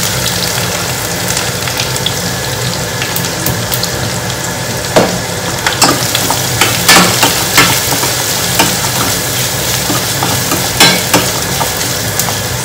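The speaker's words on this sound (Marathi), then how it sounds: "तर कांदा पण मस्त फ्राय करून घेऊ। कांदा मस्त फ्राय होतोय अर्धवट" Chopped onion frying with garlic in a home-kitchen pan, a continuous sizzle with intermittent scraping stir clicks and occasional louder clatters, close and loud, no talking.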